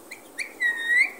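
A bird whistles nearby in a few clear notes: a couple of short chirps followed by a longer, sustained whistled tone, heard alone against a faint background.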